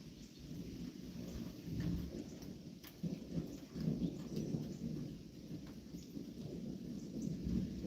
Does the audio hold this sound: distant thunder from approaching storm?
yes